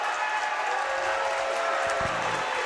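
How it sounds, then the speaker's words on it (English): Hockey crowd at a Marshfield varsity boys game reacting to an offside call against Needham, a steady roar of cheering and clapping throughout, loud and continuous with no clear talk over it. "Marshfield crowd's going to tell you exactly how they feel about it."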